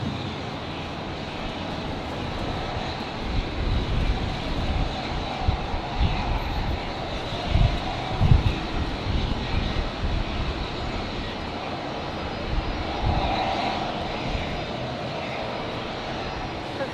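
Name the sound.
airplane taking off from Brisbane Airport runway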